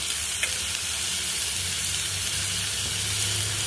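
Onion fries in a pan with garlic, green chili and salt while a beetroot dish is cooked, giving a loud, even sizzle with faint stirring scrapes and no talking.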